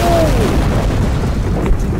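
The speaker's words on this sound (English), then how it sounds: "It did not contain the explosion." RBMK reactor meltdown explosion inside a video game, against reinforced CMB brick walls, heard as a loud, sustained rumbling roar that fills the clip, with a descending tonal whine early on and a brief pop near the end.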